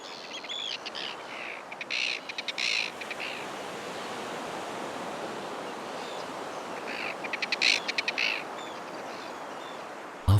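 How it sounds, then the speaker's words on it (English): An Arctic tern calls at its breeding ground in Iceland, giving several sharp, high chirping bursts over a steady wash of surf and wind. "this Arctic tern has finally reached its breeding ground in Iceland"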